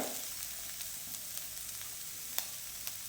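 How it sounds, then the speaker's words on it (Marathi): Vegetables stir-fry in hot oil for Schezwan noodles, giving a steady close sizzle with a few sharp clicks of a spatula tossing them in the pan. "भाज्या जास्त शिजवायच्या नाही फक्त तेलामध्ये टॉस करून घ्यायच्या थोड्याशा परतून घ्यायच्या"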